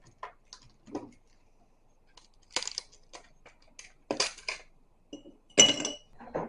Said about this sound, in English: So first we need a couple of ice cubes.